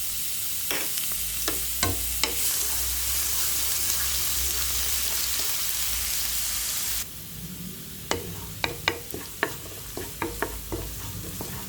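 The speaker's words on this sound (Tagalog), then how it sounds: "May mantika na siya. Mainit na. Ilagay ko na ang bawang." Garlic drops into hot oil in a pan and sets off a loud, steady hiss with a few sharp spatters. The sizzle then quiets while a utensil clacks and scrapes against the pan in quick bursts.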